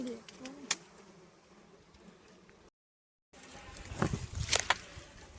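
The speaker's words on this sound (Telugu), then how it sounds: "ఈ తేనెటీగలు ఎక్కడ కుట్టేస్తాయని అని భయం ఎత్తుంది" Honeybees buzz around a wild honeycomb during honey collection, a faint drone that cuts out briefly and then swells louder and closer with sharper buzzing passes.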